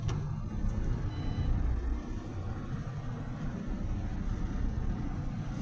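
A truck engine idling after start-up, a steady low rumble that runs continuously at close range with no voices over it.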